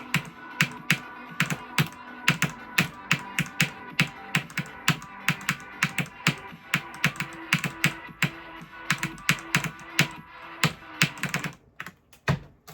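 Rapid, close clicking on a computer keyboard, a steady run of sharp keystrokes at a brisk typing rhythm that breaks into a few scattered taps at the end, with no voices.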